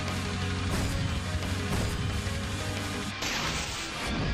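A Magic Missile spell is cast in the fantasy RPG Legionwood, giving a loud, bright crackling magical burst with a few sharp impact hits that carry on over a dense, sustained layer of sound.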